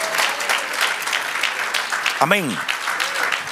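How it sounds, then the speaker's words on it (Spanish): A church congregation breaks into loud, sustained applause while a pastor speaks in Spanish over the clapping. "Denle un aplauso al Señor."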